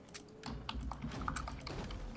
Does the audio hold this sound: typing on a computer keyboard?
yes